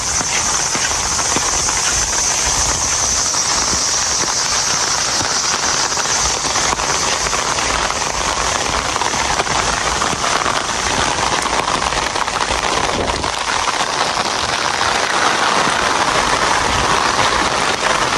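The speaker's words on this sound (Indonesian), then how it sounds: "Full diguyur hujan." Heavy rain pours steadily over a village in Yufuin, Japan, a dense, unbroken roar of drops hitting surfaces nearby, loud and constant throughout with no voices.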